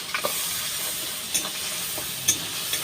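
Ground ginger paste sautéing in a hot pan gives a steady, close frying hiss, broken by a few light scrapes from stirring.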